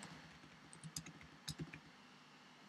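A command typed on a Mac computer keyboard, a short, faint burst of soft key clicks in a quiet room, with no one speaking.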